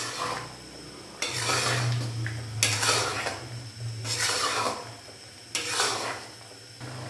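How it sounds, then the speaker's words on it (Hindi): Beef pieces stirred and fried in ghee and butter in a karahi, with repeated loud scraping strokes of a utensil against the pan over a steady low sizzle. "अच्छे से हम इसको मिक्स करेंगे और इसको मज़ीद भून लेंगे 4 से 5 मिनट के लिए"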